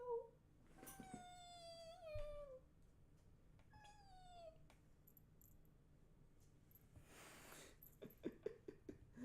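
A cat gives several drawn-out meows, two long calls near the start and a shorter one later, over a quiet indoor hum with faint rustling and clicks.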